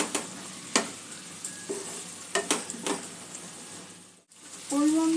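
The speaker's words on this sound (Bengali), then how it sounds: "একটু মিশিয়ে নেব।" Kantola fries in a pan while the mixture is stirred, producing a sizzling hiss punctuated by several sharp spatula clicks and scrapes, close, with a short gap near the end before the frying resumes.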